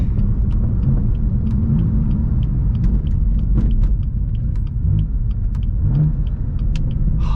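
A BMW M4 CS engine downshifting: a loud, steady close rumble from inside the car with faint ticking and clicks over the drone.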